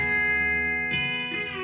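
B-bender electric guitar played on the E bender box, tracing a vocal-style melody with sustained bent notes and a couple of fresh plucked attacks, close and steady with no talking.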